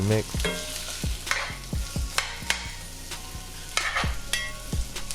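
Onions and squash sautéing in olive oil, a loud close sizzle under repeated rhythmic scrapes and knocks of a utensil stirring against the pan, with no talking.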